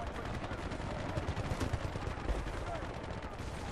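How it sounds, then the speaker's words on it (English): Machine gun fire in Battlefield: Bad Company 2 crackles in dense, rapid bursts of sharp reports that sound fairly close and loud and continue without a break. "There was a machine gunner up there somewhere."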